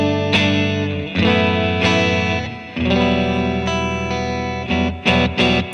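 Electric guitar through an amp's clean channel in a live rack rig, with chorus and reverb shimmer on sustained, chiming chords and single notes that ring over each other, loud and close with no talking.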